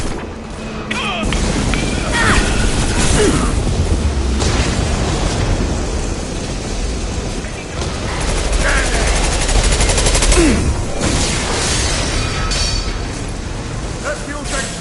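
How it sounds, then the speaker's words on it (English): Heavy gunfire and impact-shot blasts in the Mass Effect video game, continuous and loud with crashes and explosions layered throughout, while a voice talks underneath. "Firing an impact shot"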